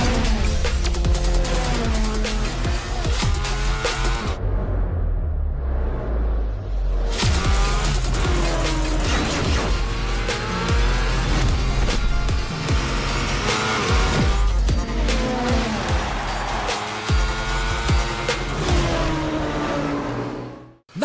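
A 2025 TVS Apache RTR 204V motorcycle in a TV advert, heard as loud engine revving and whooshing passes with tire squeal, set to a dense music bed that briefly drops out before building again.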